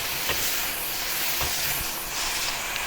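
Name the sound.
king oyster mushrooms stir-frying in sauce over high heat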